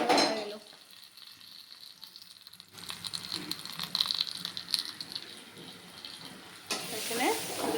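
Spices for a tempering fry in hot soybean oil in a home kitchen, giving a steady faint sizzle that swells louder partway through, with running-water and stirring noises mixed in.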